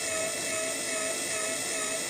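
A linear actuator hunts back and forth around its set position, giving a continuous, close, harsh grumbling whine with a steady buzzing tone and no pauses.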